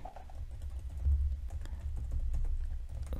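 Quiet, rapid typing on a computer keyboard while writing code, with irregular clusters of soft key clicks over a low background hum.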